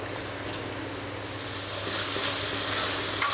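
Ponnanganni spinach stir-fry being stirred in a hot pan, with a steady oil sizzle and a few scraping stirs that rise toward the end.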